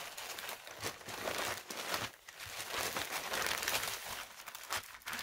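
A plastic bag holding buttons is crinkled and handled up close, giving bursts of loud crackling and rustling that come and go with brief pauses, with no talking.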